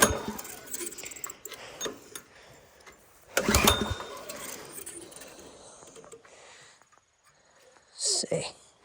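A Craftsman DT tiller, repaired after mouse-chewed ignition wires, is cranked and sputters into a brief loud burst of engine noise, close by, followed by quieter rustling and a short later flare of sound, with faint whispered voices.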